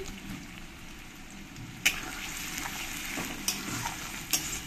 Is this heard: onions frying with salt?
yes